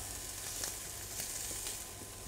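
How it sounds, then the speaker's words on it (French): Onions sweating in olive oil in a frying pan, a steady close sizzle with soft scraping as a wooden spoon stirs them, no voices. "On met de l'huile d'olive dans la poêle, nos oignons. Donc on fait un peu suer les oignons, on les remue avec une cuillère en bois."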